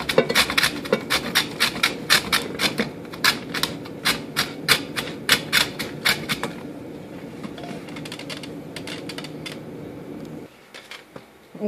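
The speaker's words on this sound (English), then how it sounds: "so we're still grating this down. The fresh store-bought horseradish." Fresh store-bought horseradish root scraped against a grater in quick, rhythmic rasping strokes, close and fairly loud over a steady background hum, slowing and fading toward the end.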